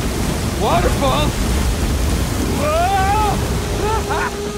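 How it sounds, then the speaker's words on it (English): A roaring waterfall in the video game Uncharted 4 fills the scene as a loud, steady rush of broadband water noise, with shouting voices calling out over it in brief bursts. "Waterfall! Waterfall!"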